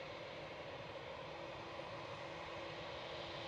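An Etihad Boeing 787-9 Dreamliner at Manchester Airport produces a steady, distant jet engine roar that holds level and fairly faint throughout.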